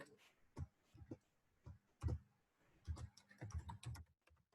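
Quiet, close keystrokes come as C++ code is typed on a computer keyboard, falling in irregular little bursts with short gaps between them.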